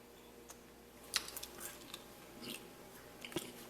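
A Whopper burger, reportedly crunchy, is bitten and chewed close up in a quiet junkyard setting, giving a few crisp crunches and soft wet mastication sounds spread over a few seconds.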